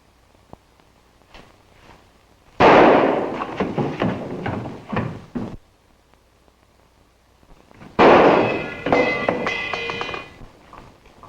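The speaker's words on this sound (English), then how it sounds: "You ought to learn to shoot, Monroe." Two loud bursts of gunfire, each a rapid run of sharp cracks lasting a few seconds, separated by a quiet pause, with faint small clicks in between.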